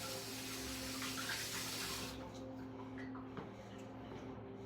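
A spoon is washed under a running kitchen tap, with a steady rush of water for about two seconds before it cuts off, leaving a quieter room with a few faint clinks.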